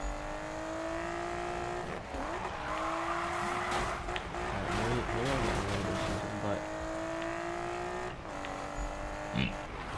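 Tyres squeal and an engine revs in a car sliding through drifts in the 2015 Need for Speed racing game, loud and continuous over ten seconds, with rising and falling engine pitch and someone talking over it.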